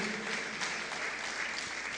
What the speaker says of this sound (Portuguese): Você pode louvar o Senhor com as suas palmas